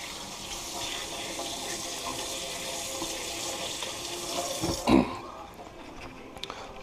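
Water runs steadily from a kitchen tap as a spoon is rinsed off during cooking, a continuous hiss with a brief louder splash near the end before the flow cuts off.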